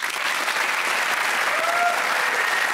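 Steady, full applause from an audience greeting the Lotus Cars managing director on stage, a dense continuous wash of many hands that holds at an even level throughout.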